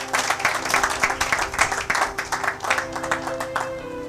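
A church congregation clapping together in a steady, rapid rhythm, loud and close, with a faint sustained tone beneath it and some voices mixed in.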